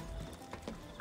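Faint hoofbeats of a horse circling in the video game Assassin's Creed Odyssey, a brief clip-clop under a low game-ambience wash.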